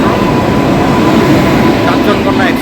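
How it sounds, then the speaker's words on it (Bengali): The Kanchankanya Express pulls into platform 3 at Siliguri Junction with a loud, steady rumble, heard among the noise of a crowded station where people talk. "ট্রেন চলে আসলো আর ট্রেন দিয়েছে 3 নম্বরে।"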